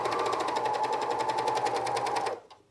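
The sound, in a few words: sewing machine stitching over a seam of a camisole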